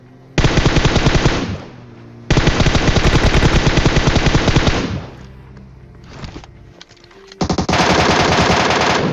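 Loud automatic gunfire from a squad-based shooter video game rattles in long sustained bursts, broken by short pauses and a quieter patch of scattered shots before a final heavy burst.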